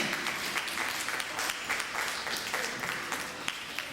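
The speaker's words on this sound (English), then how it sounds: "Mrs. Gonzalez, let's give her a big hand" Sustained applause from an audience at PS 5 in Port Morris, Bronx, greeting Mrs. Gonzalez: a thick, even wash of many hands clapping, with a few sharper claps standing out near the end.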